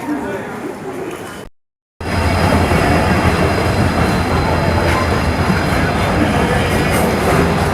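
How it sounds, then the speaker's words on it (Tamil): A goods train rumbles past close by in the morning, a loud, steady roar of wagons with wheel squeal and rhythmic clatter after a brief silent gap. "இந்த கூட்ஸ் ட்ரெயின்ஸை மார்னிங் பார்க்குறதே தனி அழகுங்க"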